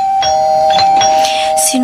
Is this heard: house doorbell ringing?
yes